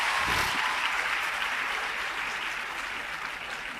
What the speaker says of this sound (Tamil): இன்னும் கூட கைத்தட்டலாம் தானே நீங்கள்?